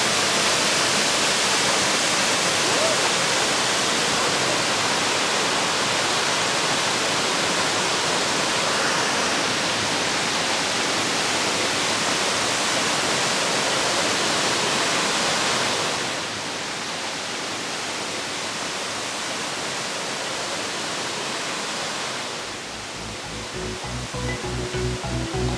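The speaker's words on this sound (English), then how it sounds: "look at that waterfall up there." Steady broadband roar of a waterfall pouring into deep blue river water in the Jamaican countryside, continuous and fairly loud, softening slightly toward the end with a low rumble.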